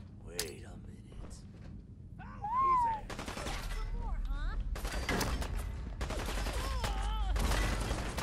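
Gunfire in the video game Fallout 4 rattles in clustered bursts through the second half, mixed with creaks and mechanical clanks, and a voice talks in between.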